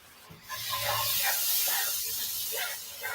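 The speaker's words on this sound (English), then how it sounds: "we're just going to stir it up" Bok choy stirred in sauce in a hot pan gives a steady sizzling hiss with soft scraping, holding fairly even throughout with a faint low hum beneath.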